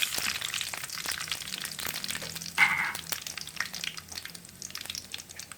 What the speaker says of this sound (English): give this a good stir and just stir it for about a minute